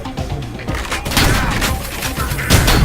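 Rapid pistol fire from the Loverboy handgun in the first-person shooter Ion Maiden, a dense loud volley of shots running continuously over game explosions and thuds.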